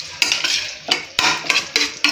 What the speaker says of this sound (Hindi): अभी इसे अच्छी तरह से फ्राई करते हैं फ्रेंड्स चिकन को।